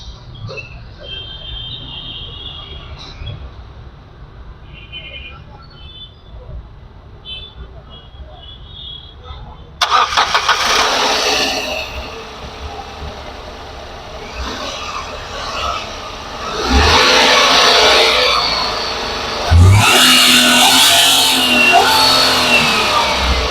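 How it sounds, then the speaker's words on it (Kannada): A 2016 Renault Kwid petrol hatchback with manual transmission is started: a quiet ambient stretch gives way to an abrupt engine catch, then a steady idle with a few louder revs. Nearby voices can be heard over it. "ಇಂಜಿನ್ ಸ್ಟಾರ್ಟ್ ಕೂಡ ಮಾಡಿ ತೋರಿಸ್ತೀನಿ ನಿಮಗೆ"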